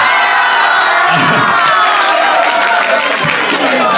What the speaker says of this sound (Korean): 이렇게까지 환호를 받을 일인가 이게?